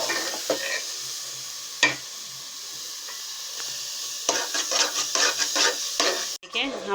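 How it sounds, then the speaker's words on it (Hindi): Grated carrot halwa is stirred and roasted in a pan, giving a steady sizzling hiss with scraping spoon strokes and a sharp clank near the start, the stirring growing busier toward the end, with no talk. "देखें हमारे हलवे की अच्छे से भुनाई हो गई है"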